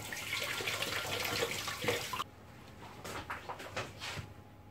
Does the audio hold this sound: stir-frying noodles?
no